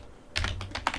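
A password is typed on a computer keyboard in a short run of about five quick, close key clicks after a brief pause, with no talking.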